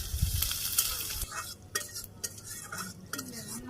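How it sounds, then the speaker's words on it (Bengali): Onions frying in hot oil in a home kitchen give a soft, steady sizzle, with occasional scrapes and clinks of a stirring utensil against the pan close by. "তেল গরম হয়ে গেছে, তখন আমি যে পেঁয়াজ ভেজে নিব, বেরেস্তা ভেজে নিব"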